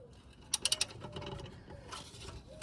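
A ratchet spanner clicks in a quick run of four sharp ticks on a 10mm bolt holding the brake pipe of a 1997 Rover 600 (Honda Accord based), close and fairly quiet amid soft workshop noise.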